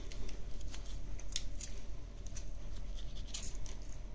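A knife or shears cut through veal shank around the femur head with repeated short crisp snips and slicing clicks, close and steady, without talk.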